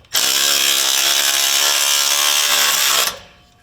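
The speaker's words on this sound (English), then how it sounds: "we're going to go ahead and loosely secure this clamp in place" A power ratchet runs steadily for about three seconds to tighten an exhaust clamp on a Jeep Gladiator during a muffler install. The buzzing whir is loud and close, then cuts off abruptly.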